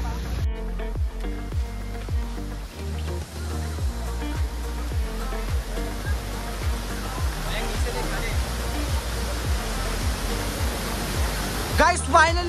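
Bhivpuri waterfall rushing loudly and steadily as a broad, dense roar close by, with a faint rhythmic beat running underneath throughout.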